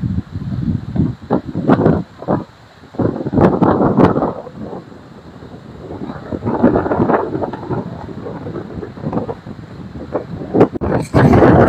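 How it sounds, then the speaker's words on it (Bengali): Strong storm wind buffets the microphone on the open coast by the Maheshkhali channel during a sea depression, with rising tide and steady rain, roaring in loud gusts and rumbling bursts throughout. "খুব বেশি বাতাসের সাথে পাল্লা দিয়ে বাড়ছে জোয়ারের পানি, আর তার সাথে রয়েছে না একটানা বৃষ্টি"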